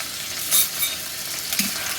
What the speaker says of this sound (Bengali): একটু পেঁয়াজ দিয়ে দিলাম পেঁয়াজটা ভাজা হোক